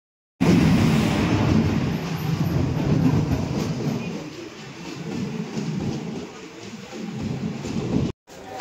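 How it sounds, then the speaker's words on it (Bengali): A Malda–Howrah passenger train rumbles along the tracks, loud and close, with rhythmic wheel clatter and a steady roaring hum throughout. "তো চলুন আমরা মালদা হাওড়া ট্রেন হয়ে আমরা নবদ্বীপ ধাম যাব।"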